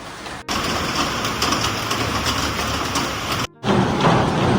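Heavy rain pours steadily on a surface outdoors on a sunny morning, a dense broadband hiss that holds loud for several seconds, briefly cut twice, with no one talking.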